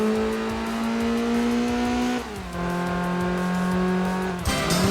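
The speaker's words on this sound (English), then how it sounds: "I wonder if this car shares the engine sound from Gran Turismo" A synthetic-sounding car engine in Gran Turismo 2 revs high and steady, dropping pitch at a gear shift, then climbing again before a sharp change near the end.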